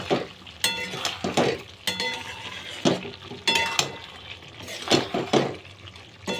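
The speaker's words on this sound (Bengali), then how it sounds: "আর গরম মশলার গুঁড়ো দিয়ে এটাকে খুব ভালো করে নাড়াচাড়া করতে হবে।" A spoon scrapes and clinks against a pan while cauliflower curry with ghee and garam masala powder is stirred, making repeated close metallic strokes in an irregular rhythm with soft wet squelches between them.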